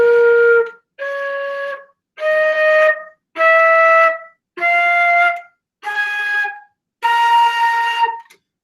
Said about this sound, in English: So that's all the notes on the flute and the bells.